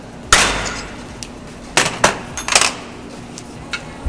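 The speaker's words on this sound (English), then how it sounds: "It's got a little stake that he's going to hammer in." Metal hammer strikes driving a small locking stake against a nut during a 5th Gen 4Runner regear: a sharp blow, then a cluster of three or four quick taps and a couple of lighter ones, close and alone in a quiet shop.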